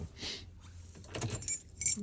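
Original keys for a 1968 Ford F100 truck jangle and clink in the hand in short metallic bursts, close to the listener, with a bright rattle near the end.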